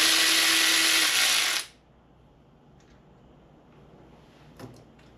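A power tool whirs loudly for about a second and a half while removing the old exhaust manifold on a Honda Civic, then stops, leaving a quiet garage with a few faint clinks.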